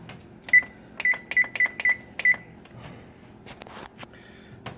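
A row of short electronic beeps from an oven control panel as preheat is set to 325, six quick chirps in an uneven rhythm, then soft clicks and kitchen handling noise, loud and close.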